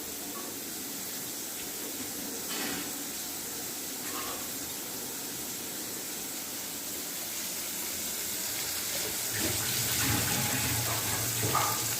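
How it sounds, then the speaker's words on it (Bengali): Water runs steadily into a pan of fish curry with fried potato, tomato and ginger-cumin paste, a continuous moderate splashing pour that swells slightly louder toward the end. "এবার আমি জল দিয়ে দেবো।"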